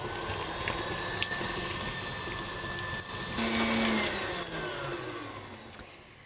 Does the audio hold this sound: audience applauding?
no